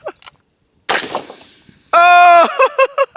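A single sharp crack of a .223 Wylde rifle fired during a prairie dog hunt, loud and close, followed by a short ringing tail and a voice exclaiming immediately afterward.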